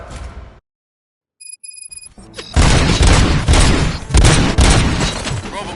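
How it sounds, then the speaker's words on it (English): Gunfire in the video game RoboCop: Rogue City, a loud burst of shots and booms after a short silence and a few chime tones, continuing as dense, heavy firing to the end. "Gunshots? What's going on?"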